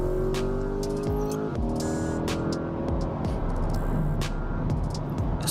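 Police patrol car accelerating hard on an interstate in pursuit of a speeding Porsche, engine droning steadily with rising revs and a brief tire squeal, continuous and close from inside the cruiser.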